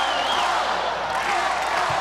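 A steady roar of crowd cheering fills a 2018 women's college volleyball match between Hawaii and UC Santa Barbara, sustained and dense throughout with no clear breaks.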